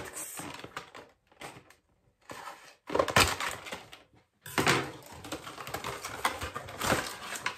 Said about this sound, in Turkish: Şuradan bantları keselim.